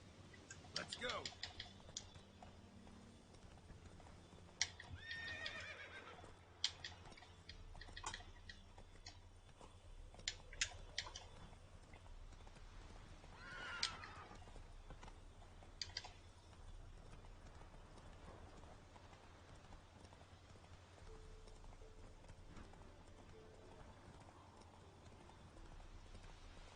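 Horse hooves clip-clopping in The Witcher 3 video game, an irregular run of soft steps at moderate distance with occasional snorts, over faint ambient game sound and scattered clicks.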